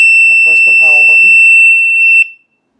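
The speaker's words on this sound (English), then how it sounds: "the watch is going to make a loud screeching sound, so you may want to cover your ears" An X6 smartwatch emits a loud, steady, piercing high-pitched screech that holds unbroken for over two seconds and then cuts off abruptly, with a voice speaking over its start.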